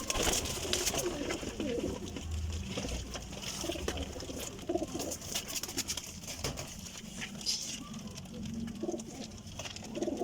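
Golden pigeons coo softly and repeatedly amid a steady background of fluttering, shuffling and faint patter from a loft, continuous and fairly near without speech.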